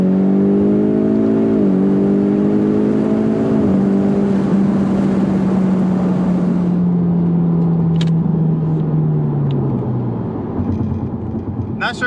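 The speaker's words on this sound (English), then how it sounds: "you can still hear the sound of the air being sucked in" A Ford Mustang EcoBoost fitted with a Mishimoto cold air intake and fully open exhaust produces a loud, close engine drone. Its tones rise and then sink steadily as the revs fall, with wind noise underneath.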